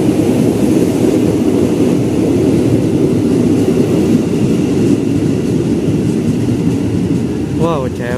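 A loud, steady rumble of an electric commuter train passing through a station fills the whole stretch, with rolling wheel and motor noise and a rising whine near the end.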